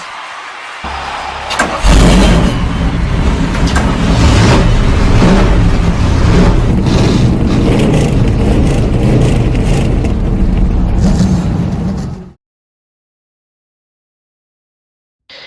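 Race cars at USA International Speedway in Lakeland, Florida, fire up together and rev loudly for several seconds in a dense, roaring chorus of engines before cutting off into near silence.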